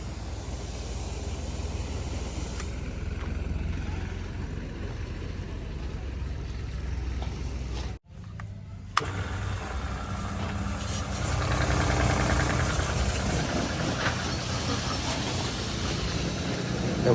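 Makeshift spray pump driven by a 3HP electric motor, running steadily with a broad, hissing drone, briefly cut near the middle and then resuming slightly louder.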